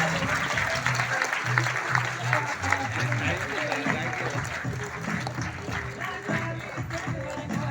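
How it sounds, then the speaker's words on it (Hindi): Loud applause with music from a hall crowd at a stage event for leaders, continuous and full under a steady musical beat, with voices mixed in. "यस, जोरदार तालियां विद म्यूजिक"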